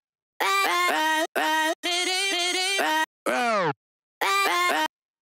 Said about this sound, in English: they came with this little like vocal chop loop